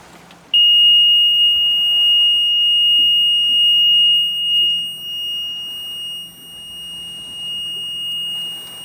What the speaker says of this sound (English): that sound right there, it'll just beep at you until you actually turn it on